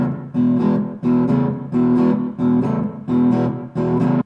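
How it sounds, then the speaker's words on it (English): A guitar in open E tuning plays an open-voicing blues rhythm on the lower strings, with strummed chords repeated in a steady shuffle of about six evenly spaced, loud bursts, played alone. "we're going to start with this open voicing,"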